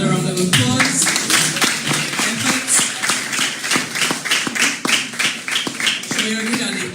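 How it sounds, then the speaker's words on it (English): Audience applause for school debaters at an inter-secondary schools debate, a dense run of hand claps filling the room, steady and fairly loud throughout, with a few sharper individual claps standing out near the end. "Just give the debaters another round of applause."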